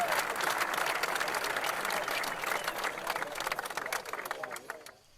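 A golf crowd applauds steadily and loudly at a PGA Hawaiian Open in a 1984 PC golf game, the clapping fading out at the end.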